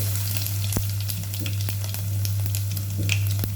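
Mustard seeds, cumin, crushed garlic and green chilies fry in hot oil over a low flame, giving a steady, close sizzle with scattered small pops and crackles and a constant low hum underneath.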